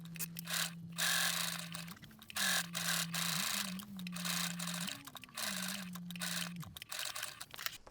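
A sewing machine bastes around the bottom edge of a fabric tote bag, its motor whirring in steady runs with small pitch shifts, broken by brief pauses and clicks, close and quiet.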